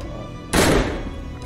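A single sharp gunshot in the DayZ video game fires about a third of the way in, a loud broadband crack that decays over roughly a quarter second above a low steady background hum.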